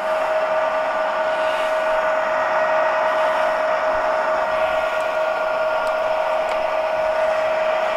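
A used Summit LE-1500 lathe runs in longitudinal feed mode with its feed screw turning, producing a steady mechanical whine with a strong sustained tone, a constant hum, and a few faint clicks.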